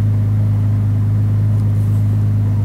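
A Ferrari pulling onto the German Autobahn gives a steady, heavy low engine drone heard from inside the cabin, loud and constant with no talking over it.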